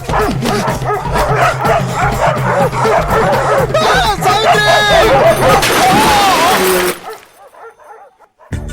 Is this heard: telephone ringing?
no